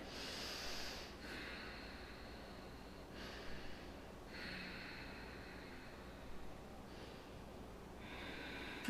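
Slow, steady breaths during a power yoga session, soft airy inhales and exhales recurring every couple of seconds, close and faint with no talking.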